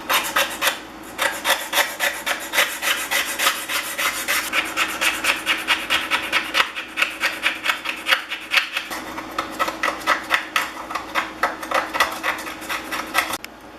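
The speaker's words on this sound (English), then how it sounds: "Now we scrape the back side of the iron just like we did the front." A scraper rasps repeatedly across the back side of an iron plane cap, a fast, steady run of close, loud strokes with no talking.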